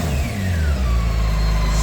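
A BMW K1600 GTL touring motorcycle's warmed-up inline-six engine runs close by, with a smooth, steady mid-pitched drone and a light rise in revs early on.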